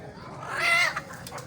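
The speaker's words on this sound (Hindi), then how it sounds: "ये देसी मुर्गी" Desi hen clucking at a farm in Wazirabad, a single drawn-out cluck rising over a low background, followed by a couple of brief softer notes.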